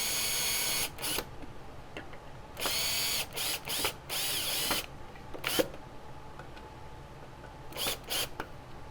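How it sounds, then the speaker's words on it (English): A power drill driving screws into wood while building a paper towel holder: loud whirring bursts of one to two seconds, repeated several times with quiet gaps between. "So I'm gonna drill the second one in"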